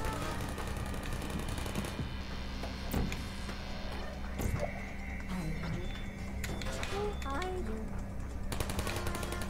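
Automated turrets fire in a Portal game room, bursts of rapid gunfire crackling repeatedly across a dense, busy mix with sharp shots standing out, alongside other game sounds.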